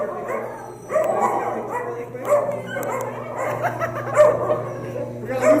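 Several rescued puppies yip, whimper and bark continuously, high thin cries overlapping in a busy cluster, close by and fairly loud over a steady low hum.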